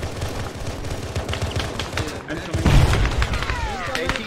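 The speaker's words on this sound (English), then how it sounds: "Taking fire from the north!" Gunfire and heavy booms in an Arma 3 Halo mod battle during a sandstorm, a continuous rumble of shots and thuds with a louder blast midway, and voices talking over the fighting.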